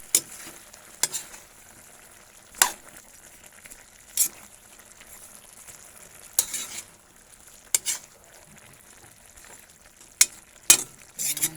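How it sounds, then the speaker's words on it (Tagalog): A utensil stirs malunggay frying in a pan, with a constant soft sizzle and repeated sharp scrapes and clanks against the metal at irregular intervals, fairly close. "Haluin po natin."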